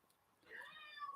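A house cat at the front door growling at neighbour cats, one short, faint, tonal vocal lasting under a second against a quiet room.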